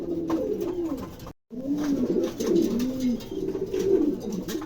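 A pair of pigeons, including red King pigeons, coo in repeated soft throaty phrases close by, with a short break partway through and no talk.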